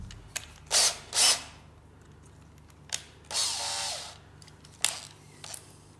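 Power drill boring rivet holes in a sheet metal toolbox: several short whirring bursts with pauses between, plus one longer drilling run, close and fairly loud.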